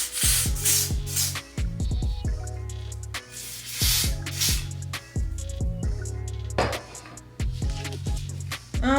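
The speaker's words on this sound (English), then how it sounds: "Now I'm taking my handy dandy spray. I think I'm gonna spray on top of this." Hair spray from a handheld can misted over a styled flipped bob, heard as several short hissing bursts, close and fairly loud, separated by rubbing and handling noises.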